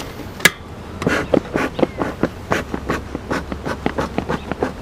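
Honey bees buzz close by in a bee yard beside a colony ready to swarm, a loud, pulsing drone with rapid, repeated swells as insects pass near.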